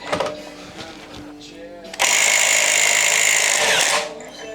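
An impact wrench working on a wheel hub bolt during a hub conversion, with a loud, steady buzzing rattle of about two seconds up close, stopping abruptly after some brief clanks and shuffling.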